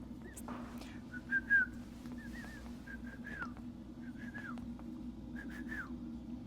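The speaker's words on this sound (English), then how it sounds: "I'm going to whistle for everyone." A person whistles a series of short, bright chirping notes to newly hatched emu chicks on a farm, some rising, some falling, repeated over a steady low background hum.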